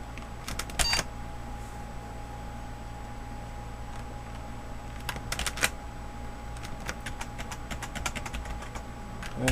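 Computer keyboard keys pressed on an old eMachines OEM desktop, in short clicking bursts near the start and middle, then scattered taps toward the end, over a steady low machine hum.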